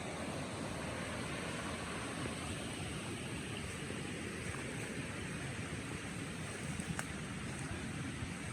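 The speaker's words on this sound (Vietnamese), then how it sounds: "Đó là dọc suối đó các bạn." Stream water flowing alongside a garden plot, a steady broad rushing wash with no pauses, constant and fairly close with no voices.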